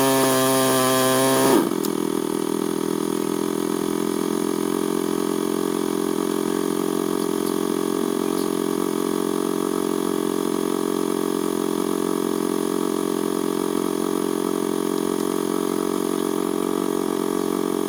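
A Hero Xpulse 200 motorcycle engine runs steadily at idle nearby, a continuous buzzing drone that holds an even pitch after a brief opening burst, with no talking.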